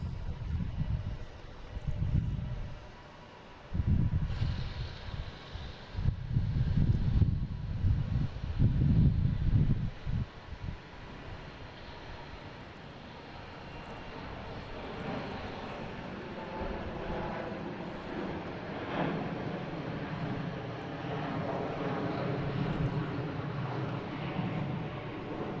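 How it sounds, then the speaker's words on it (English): A Delta Airbus A330-900 jet departing Boston Logan for Amsterdam, a steady distant engine roar that slowly swells and sustains under wind noise after some louder handling thumps at the start. "here's Delta heading to Amsterdam. Flight 256."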